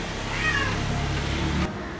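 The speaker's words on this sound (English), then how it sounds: "And yeah, Teddy's crying." A house cat meows once, a drawn-out cry heard close over steady background hiss and indoor room noise.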